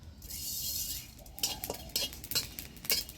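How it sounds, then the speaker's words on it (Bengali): Whole cumin seeds dry-roast in a clay pan. A quiet rush gives way to a few light scraping and clinking strokes as a utensil moves through the seeds. "এবার আমি কাঠখোলায় গোটা জিরা ভেজে নিব"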